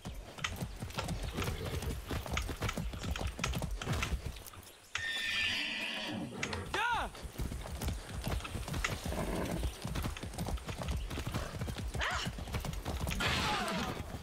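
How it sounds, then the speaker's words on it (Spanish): Horses in the Far Cry 6 video game gallop with a steady, rapid clip-clop of hooves throughout, broken by a loud whinny and neigh near the middle, all close and prominent. "Qué buen caballo."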